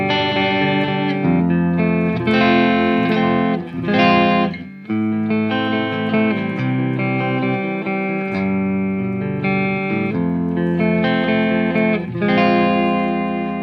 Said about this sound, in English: These Roosevelt pickups, they sound kick-ass with clean tones